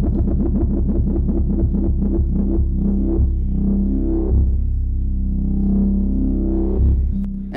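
UNO Synth playing a sustained note with a wah effect whose rate changes, the tone pulsing rapidly at first, then sweeping slower and more smoothly, loud and alone.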